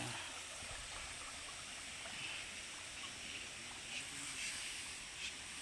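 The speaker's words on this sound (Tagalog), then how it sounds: "Talon siya." Steady rushing water from a waterfall on a farm fills the scene, a constant broadband hiss, with a few faint bird calls above it.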